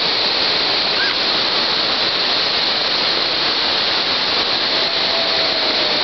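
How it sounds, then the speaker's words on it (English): Constant heavy rush of the Whatcom Falls waterfall in Bellingham, Washington, loud and near, a dense unchanging white-noise roar that runs throughout. "Another waterfall up there."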